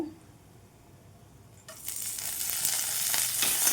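Dried red chilies and curry leaves hitting hot oil for an eggplant masala fry, a quiet start then a sudden loud close sizzle that keeps crackling steadily.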